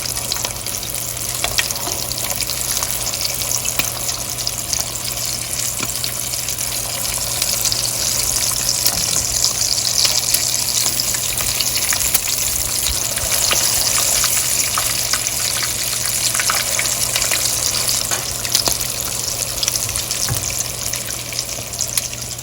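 Shami kababs sizzle steadily in a hot pan of oil, a dense, continuous crackling hiss that holds at an even level throughout with no voices over it.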